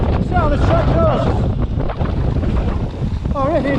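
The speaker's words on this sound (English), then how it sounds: "it's just so windy" Strong gusting wind buffets the microphone on a windy bike trail during an e-mountain bike ride on a Trek Rail 9.8, a loud continuous roar with fainter tonal whistles and a voice faintly heard under it.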